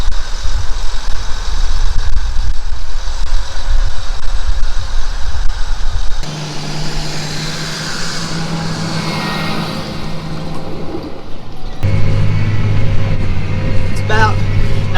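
A tractor engine drones steadily while it builds levees in a field, and the machine bottoms out at times. The rumble is close and continuous, its tone shifts partway through, and a voice talks over it.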